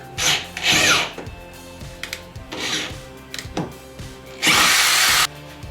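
A power drill bores a quarter-inch hole through a car's bodywork for a rear wing install, with several short whirring bursts followed by a longer, louder final grind.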